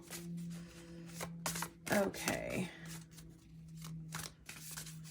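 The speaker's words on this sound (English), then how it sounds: "They are a little bit trickier to shuffle." Heart Path Oracle card deck being shuffled by hand, with soft irregular riffles and slaps close by under a steady low hum, and a brief spoken word.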